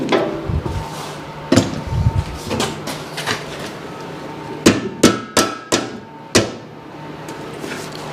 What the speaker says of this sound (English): I got to hammer that bearing on without destroying it.